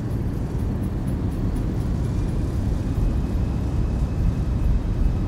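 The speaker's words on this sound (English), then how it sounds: "Eighty knots, throw those reversers." Simulated Boeing airliner thrust reversers roaring on a landing rollout in X-Plane 11, a steady heavy low-frequency rumble and whoosh holding at constant loudness throughout.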